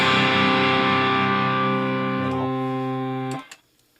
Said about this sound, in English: And then when you add distortion on